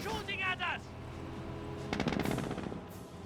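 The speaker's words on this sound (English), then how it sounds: "They're shooting at us!" Gunfire in the strategy game Company of Heroes: a short rattling burst of automatic fire beneath a busy layer of game sounds, mid-level and somewhat distant, with a brief tonal voice-like sound near the start.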